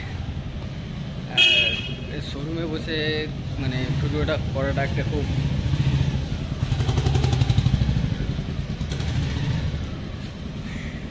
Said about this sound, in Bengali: 1 মিনিট, গাড়ি আসছে, একটু বেশি আওয়াজ হয় এখানে